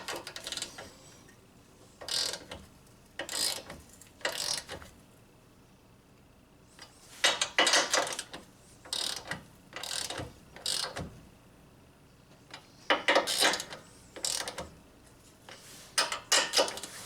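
A ratchet wrench tightens locking nuts on a Honda Civic ball joint, giving close bursts of rapid clicking separated by pauses, with several sets of strokes.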